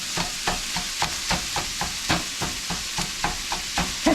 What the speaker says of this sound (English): Let me give this a quick stir.